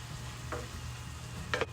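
Sausage, onions and minced garlic fry in a pan with a low, constant sizzle, broken by two brief scraping stirs.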